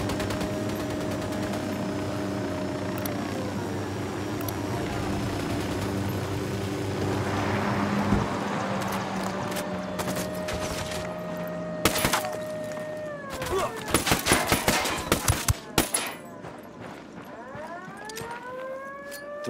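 Gunfire in the tactical shooter Ghost Recon Wildlands opens up midway over a low droning engine and siren-like wail, then builds into rapid, loud overlapping shots and bursts before it trails off.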